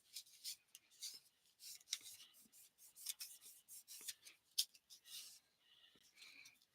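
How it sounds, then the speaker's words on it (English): Dry folded paper card creases being burnished by hand, a run of soft, scratchy rubbing strokes in quick irregular bursts, close and faint, with no voices. "Just burnishing those creases a little bit more"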